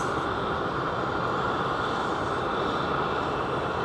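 A jet aircraft on a delivery flight at Seattle's Boeing Field gives off a loud, continuous broadband engine roar, steady and close with no pauses or other sounds.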